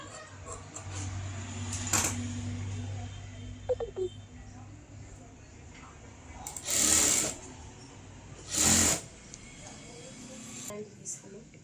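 Sewing machine stitching blouse fabric, heard as two short loud whirring bursts late on, with a brief earlier burst, amid faint background noise and low hum; a voice talks around it.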